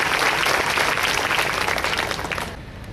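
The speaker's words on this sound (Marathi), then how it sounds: "तशा लाखशा टाळ्या आता वाजल्या पाहिजेत" Dense, loud audience applause at a save-the-girl-child event held by a credit society, continuous clapping that fades slightly toward the end.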